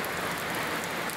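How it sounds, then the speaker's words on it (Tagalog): Heavy rain pours down in a steady, dense hiss, loud and unbroken throughout. "Grabe itong ulan na to."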